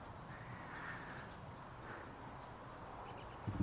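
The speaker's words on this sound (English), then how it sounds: "All the birds are singing." Crows caw outdoors at a distance, faint calls rising briefly above a soft, steady ambient hiss, followed by a couple of closer knocks at the end.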